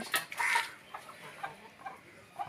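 Peru cross chickens at a breeder's farm, with brief clucks and chirps in quick succession early on, then scattered softer calls fading over a quiet background.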